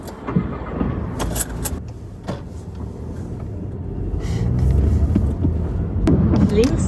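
Car driving toward the Süderhof filming locations, with a steady engine and road rumble that swells louder in the second half, plus occasional clicks and rattles inside the cabin; no talking.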